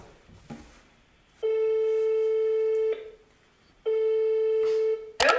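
Two long tones of a ringing phone on an outgoing call to a mother, each burst lasting about a second and a half with a pause between, loud and clear, with faint talk at the start and a click at the end.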